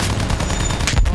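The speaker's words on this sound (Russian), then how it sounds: "Проверь пулеметы! Огонь по готовности!" Machine gun fire in the World War I shooter game Battlefield 1, a dense, continuous loud burst of rapid shots with one sharper blast near the end, lasting just over a second.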